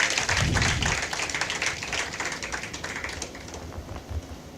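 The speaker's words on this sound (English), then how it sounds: "Can we hear a big round of applause for all of them on the stage?" Audience applause at a cyber psychology conference, a burst of clapping at the start that thins and fades over a few seconds, with no voices over it.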